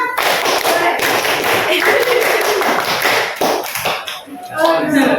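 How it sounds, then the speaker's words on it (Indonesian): A class of schoolchildren performs the scout clap, a patterned group clapping routine, sharp rhythmic claps ringing out loud and close, mixed with voices chanting and talking throughout. "Tepuk pramuka."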